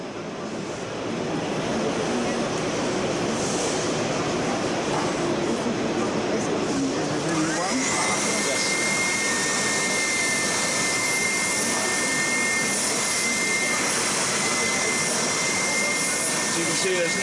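A Triton TSPST450 450W oscillating spindle and belt sander runs with a loud, constant motor whine and rushing noise throughout. A high steady tone joins partway through.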